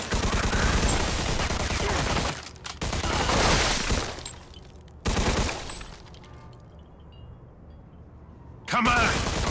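Gunfire in the video game Mafia 2 comes as loud, dense bursts of rapid shots in several long volleys separated by short gaps, with a voice shouting in between.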